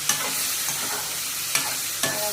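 Brinjal being stirred in a hot frying pan, a steady oil sizzle broken by several sharp scrapes of a spoon against the pan, close and without talk.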